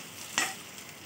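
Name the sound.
mixing chapati noodles with masala in oiled pan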